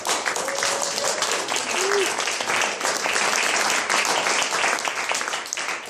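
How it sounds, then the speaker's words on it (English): Warm audience applause for a reading, a full, continuous wash of clapping at moderate loudness, with a brief whistle-like tone rising out of the crowd noise near the start. "A warm applause for Vincent Bijlo"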